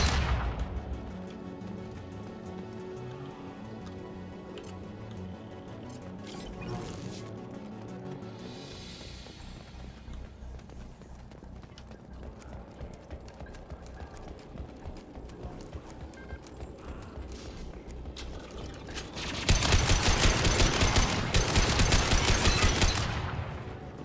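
Heavy gunfire in the video game Mass Effect 2, a long stretch of rapid, clattering automatic shots at moderate distance, swelling into a much louder, denser burst of fire near the end.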